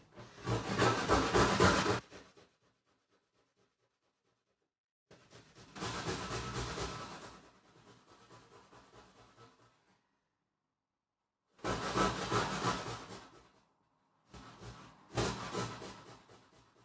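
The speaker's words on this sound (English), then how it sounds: "Now we've grated this ginger down." Fresh ginger root rubbed hard against a hand grater in a kitchen, heard as several long bursts of loud rasping scraping separated by silent pauses, with no talking.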